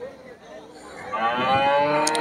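Cattle lowing at Deohata cattle market in Mirzapur, Tangail, where dairy cows and calves are sold: a long, rising moo swells near the end, close and loud over a murmur of market background.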